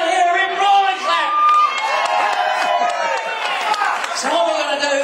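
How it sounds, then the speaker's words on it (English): A crowd, including children, cheers and whoops loudly over scattered clapping, with shouted voices rising and falling throughout. "Can I hear a rip roaring clap?"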